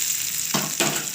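A hot tempering of cumin, dals and garlic poured into peanut coconut chutney, heard as a near, steady sizzle that swells into two loud bursts as the oil hits the chutney.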